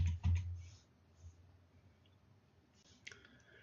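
A zip code is entered on a computer keyboard: a quick burst of close key clicks, a quiet pause, then a few more faint taps near the end.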